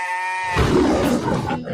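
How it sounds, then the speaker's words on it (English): Sheep from a small farm flock bleat loudly and up close, a tonal, wavering call giving way to a rough, noisy bleating that fills the rest of the moment. "Sheep. I want you to meet my flock."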